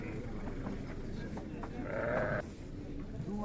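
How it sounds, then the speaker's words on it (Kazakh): Ewes bleating at a sheep fair in Arashan, with a couple of short bleats rising over a busy background of crowd murmur and livestock noise. "Урғач қойлар."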